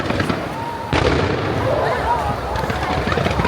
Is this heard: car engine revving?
no